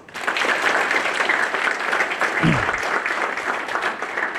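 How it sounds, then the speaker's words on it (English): An audience at an award ceremony applauds steadily, a dense, sustained clapping that fills the room for several seconds with a brief voice underneath. "One more round of applause."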